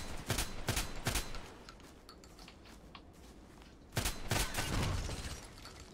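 Shotgun blasts from a Saiga 12k in the online shooter Contract Wars come in two quick clusters of sharp reports, three near the start and more after a short lull, with faint game noise between.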